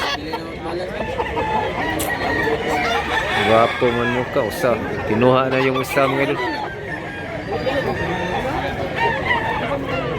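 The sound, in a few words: rooster crowing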